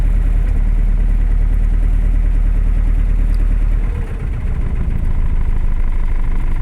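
A cold car engine idles steadily and loudly up close, a rough, even rumble with a brief dip partway through.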